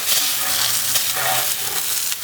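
Water sprays hard onto car wheels and tires during a rinse, a continuous loud hiss with splashing and no talking.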